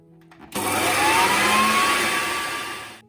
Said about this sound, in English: we have 40 grams of oats blended to essentially oat flour.